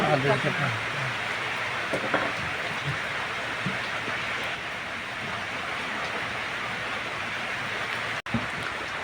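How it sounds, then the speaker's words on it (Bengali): Heavy rain falls outdoors in a steady, loud, continuous hiss that barely changes throughout, with a voice faintly heard near the start. "বৃষ্টি কিন্তু এখনও কমতেছে না বৃষ্টি কন্টিনিউ খুব পড়তেই আছে"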